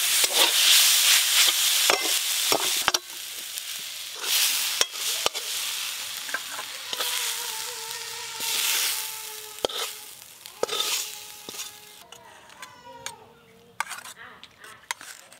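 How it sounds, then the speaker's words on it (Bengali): Drumstick leaves and onion fry in a pan with a loud, busy sizzle, punctuated by scraping stirs and clinks of a utensil against the metal, while voices talk briefly partway through. "পেঁয়াজ দিয়ে সজনা শাক ভাজা।"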